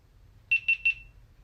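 A GoPro Hero 13 action camera gives three quick, evenly spaced high-pitched beeps, clear and close against a quiet low background hum.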